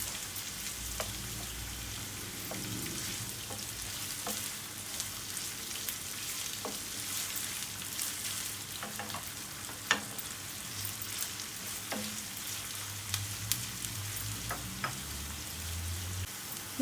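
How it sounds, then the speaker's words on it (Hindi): Onions frying in a pan for restaurant-style qeema chana, a soft, even sizzle with scattered faint pops and occasional light utensil ticks throughout. "यहाँ पर हमारी प्याज़ें फ्राई हो रही हैं।"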